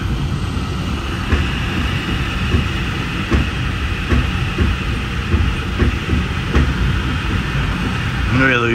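Metra BNSF Line commuter train running at 70 mph, an EMD F40PH-3 locomotive with seven bi-level stainless steel cars, heard from the head end as a steady loud rumble with faint periodic rail clicks.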